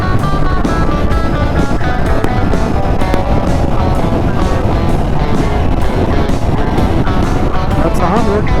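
Ducati 600SS motorcycle engine revving and pulling on the road, a loud continuous roar buffeted by heavy wind noise, with voices talking over it.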